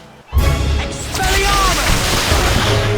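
The Stupefy spell is cast in the Harry Potter and the Half-Blood Prince PC game: a sudden loud magical burst follows a brief quiet moment and gives way to a sustained shimmering, swirling rumble with faint voice-like sounds mixed in.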